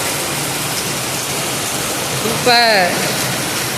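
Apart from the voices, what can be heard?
heavy rain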